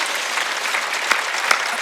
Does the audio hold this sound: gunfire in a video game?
no